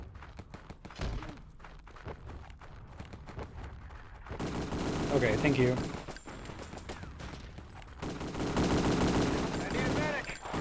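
Rapid bursts of gunfire in the video game Wolfenstein: Enemy Territory rattle in dense volleys, with quieter gaps between them and a brief spoken voice over the noise.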